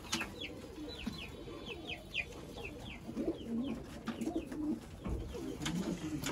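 Breeder pigeons coo in a loft, low throaty warbling calls repeating irregularly at close range, with faint high chirps from young birds scattered above and occasional rustling.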